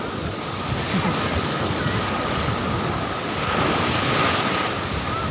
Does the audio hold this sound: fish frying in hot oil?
no